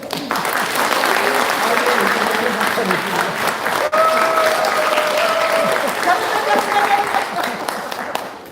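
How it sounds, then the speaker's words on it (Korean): Sustained audience applause at a lecture by a National Assembly member hosted by a regional party committee, a steady wash of clapping from a seated crowd with faint tones and voices mixed in throughout. "박수 한번 해야죠."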